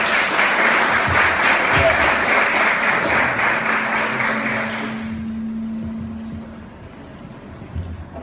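A church leaders' meeting audience gives a warm round of applause for a returning speaker, dense steady clapping that fills the room for about five seconds, then fades into quiet room noise.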